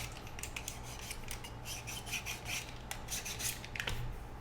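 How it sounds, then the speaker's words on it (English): A knife blade is drawn repeatedly through a handheld sharpener, a string of quick rasping strokes close up with short pauses between them, quiet and with no talk. "Got my knife, got my sharpener."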